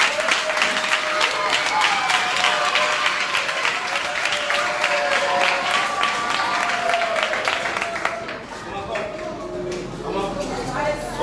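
A school staff meeting audience claps for their teachers, a dense wash of applause over several seconds that thins and fades toward the end.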